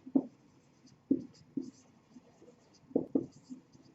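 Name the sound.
writing notes by hand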